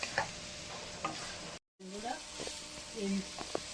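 Spice mixture stirred and frying in oil in a pan for a pabda fish curry, with scraping strokes and soft sizzling, a brief silent gap midway, then more stirring and spoon clinks; no one talks.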